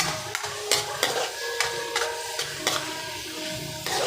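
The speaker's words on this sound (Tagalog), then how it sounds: "Kailangan madurog muna ang kamatis bago ilagay ang sardinas." Tomatoes being crushed and stirred in a pan before sardines go in, a steady sizzle under repeated sharp scraping clicks from a utensil, close and moderately loud, with no talking.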